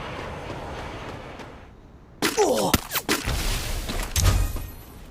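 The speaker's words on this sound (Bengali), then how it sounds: "ওরে বুলেটের মতো ফায়ার করতেছে" Gunfire in the Free Fire video game, a quiet stretch giving way to sudden loud bursts of shots and booming impacts, with a voice talking briefly over the action.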